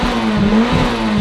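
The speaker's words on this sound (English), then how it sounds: "rev it up hard." A car engine revs hard in a warehouse, a loud, close, sustained high-RPM roar with slight wavering across the short burst, no talking.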